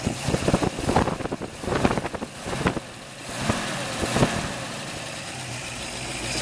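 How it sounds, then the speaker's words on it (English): A 1967 Shelby Mustang V8 idles outdoors with a rough, loping rumble and the ticking clatter of its solid lifters, close and steady with some wind buffeting the microphone. "You can hear the clatter of the solid lifters."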